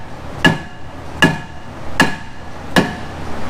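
Hammer blows against a stubborn brake rotor on a Mazda RX8 during suspension work, four sharp metallic strikes at an even, steady rhythm, each ringing briefly, close and loud.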